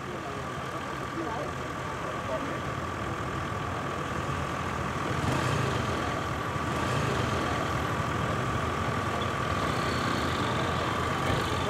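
Motorcycle taxis and other traffic on a Kigali street in Rwanda make a steady rumble of idling and passing engines, with a constant drone at a moderate distance.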